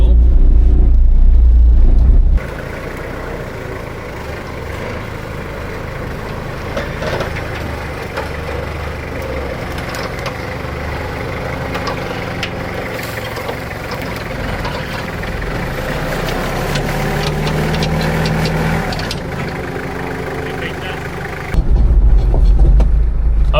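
A Toyota Hilux engine labors while trying to climb a slippery, greasy rock off-road, a loud steady drone that rises and revs for about twenty seconds between quieter moments.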